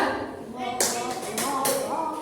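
A class of schoolchildren claps hands in a counted pattern, a few sharp group claps ringing out close in a classroom, with a teacher's voice speaking alongside.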